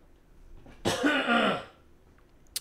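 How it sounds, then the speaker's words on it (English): A single deliberate cough, forced to clear mucus from the throat, lasting close to a second; it is loud and close, followed by quiet and a brief faint click. "That's a manual cough, not involuntary."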